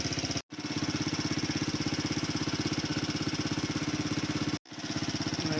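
A motorcycle engine idles on a mountain road on the route from Khaplu toward Siachen in Baltistan. It gives a loud, close, steady rapid pulsing, cut off by two brief dropouts, with no voices.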